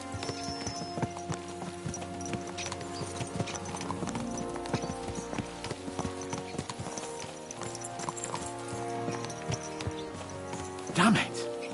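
Horses trot at a steady pace, their hooves clip-clopping in an even rhythm beneath a voice and soft music, with a louder thump near the end.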